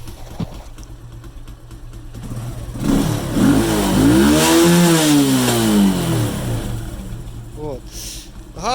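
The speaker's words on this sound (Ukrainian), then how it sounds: "Вже не можна дати на всю газ і тримати, як тоді газ на всю, а він вперед назад давиться" A Forte 125 motorcycle engine with unstable running at high revs is throttled up hard, its pitch climbing and falling in a surging, uneven sweep, loud and close, with a voice talking over it.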